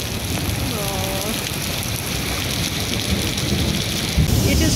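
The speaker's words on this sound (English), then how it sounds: "It is raining a lot." Heavy rain pours steadily during a freak thunderstorm at Australia Zoo, a loud, dense hiss of drops with a low rumble underneath, briefly swelling near the end.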